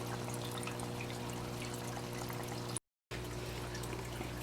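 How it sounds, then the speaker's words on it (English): Water poured into an aquarium fry rearing tank from cycled aquarium water, a steady soft trickling stream under a low hum, briefly cut off near the end before resuming. "now I'm going to fill up the rest of the water in here with some cycled aquarium water"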